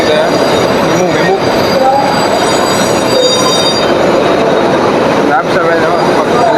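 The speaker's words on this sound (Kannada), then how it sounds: "ಅಲ್ಲೊಂದು ಲೋಕಲ್ ಮೆಮು ಹೋಗ್ತಿದೆ" A local MEMU electric train rolls past at a station, a loud continuous rumble of wheels on rails with metallic squeal, near and steady, with voices mixed in.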